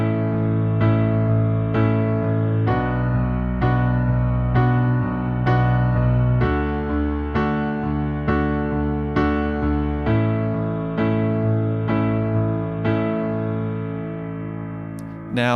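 A piano plays a four-chord progression, sustained right-hand chords over a left hand striking twice as often, in an even, steady rhythm with clear regular attacks, played alone.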